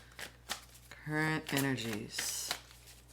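Tarot cards are shuffled by hand in short riffling bursts during a card reading, with a person talking over and between the shuffles.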